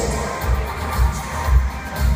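Circus audience in an arena in Makassar, Indonesia, cheering and clapping loudly as performers leave the ring, a dense crowd roar with rhythmic low thumps.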